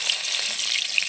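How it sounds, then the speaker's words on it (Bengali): Bay leaf sizzles in hot white oil in a kadai, a steady close crackling hiss filling the brief moment without voices. "প্রথমে আমি দিয়ে দেবো কড়াইতে সাদা তেল। তো প্রথমে দিয়ে দেবো তেজপাতা"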